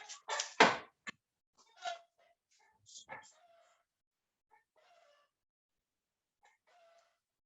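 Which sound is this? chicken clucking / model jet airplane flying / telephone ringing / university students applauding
chicken clucking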